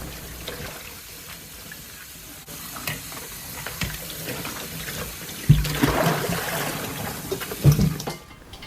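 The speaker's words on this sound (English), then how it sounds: "Rinse the crabs a few times under cold tap water to get them clean as possible." Cold tap water runs steadily as Dungeness crabs are rinsed in a sink, a continuous hiss and trickle that grows louder and splashier midway with a few knocks of shell against the basin.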